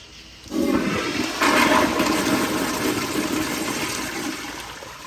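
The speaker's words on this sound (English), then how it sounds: "so I went ahead and did another flush" Kohler Kingston 1.6 gpf toilet flushing after a toilet paper test: a sudden close rush of water that roars steadily for several seconds, then gradually eases as the bowl drains.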